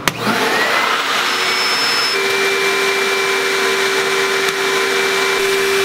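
The vacuum on a screen printing exposure unit switches on with a click and settles into a steady, loud whooshing roar with a faint high whine, running continuously and close by.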